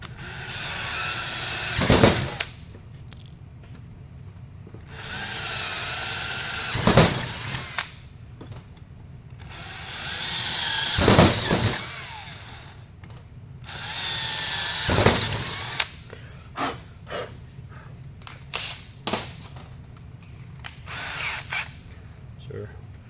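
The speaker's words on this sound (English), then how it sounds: "we're going to use our 1/4 inch drill to drill these 4 holes here" A power drill with a 1/4 inch bit whirs in several separate bursts drilling four holes for a deck plate, close and loud, with quieter handling noises and clicks between runs.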